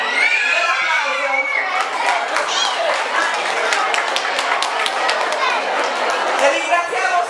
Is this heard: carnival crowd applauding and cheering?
yes